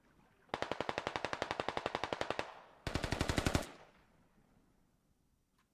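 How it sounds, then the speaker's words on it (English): Automatic gunfire in the military shooter Squad, long-range shots: a steady rapid burst of about two seconds, a brief pause, then a second shorter burst, loud and sharp with no talking. "Long range shots."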